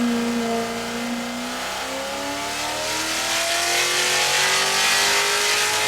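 A modified C7 Corvette Z06 makes its final dyno pull, held at full throttle. The loud engine climbs steadily in pitch through a long, continuous rev with a dense, roaring exhaust note throughout.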